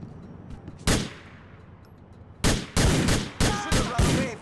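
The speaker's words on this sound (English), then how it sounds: "Damn, he shot his own teammate." Gunfire from the video game Grand Theft Auto 4: a single loud shot, a quiet stretch, then a rapid volley of sharp, close gunshots in bursts.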